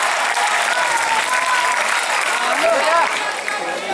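A theatre audience at a mimicry performance in an Urdu drama competition applauds steadily and loudly, with cheers and a few voices mixed into the clapping. The applause holds for the whole stretch and eases slightly at the end.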